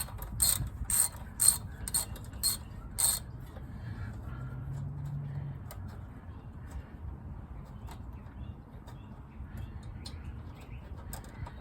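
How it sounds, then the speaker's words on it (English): A ratchet wrench loosens the bolt that holds the brake line to the front strut of a Toyota Highlander, giving a few quick clicking bursts at the start, then a quiet, faintly rumbling background. "the first thing we're going to want to do is remove this bolt that holds the brake line"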